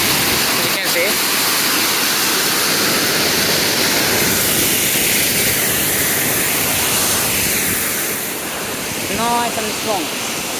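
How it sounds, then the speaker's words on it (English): A strong waterfall in the Brecon Beacons, Wales roars close by as a steady, dense rush of falling water, with a brief voice heard near the end. "Nice and strong waterfall."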